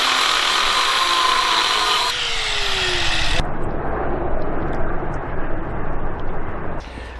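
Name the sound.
power tool back gouging a cracked repair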